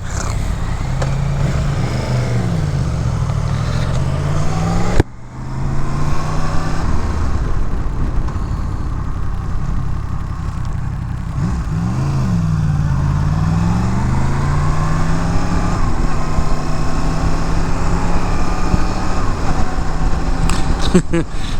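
Adventure motorbikes riding along a back road, a loud steady engine drone with rising and falling pitch as the riders shift and change speed, continuous and close, with a brief dip partway through.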